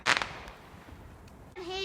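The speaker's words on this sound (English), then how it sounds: "People do like doing fireworks." A few days after bonfire night, a firework bursts with a sharp crackling pop close by, followed by quiet and then a brief animal-like cry.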